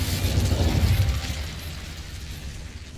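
Incendio fire spell cast in a wizard video game: a loud whooshing, bursting blast that swells in the first second, then fades into a fizzling rush.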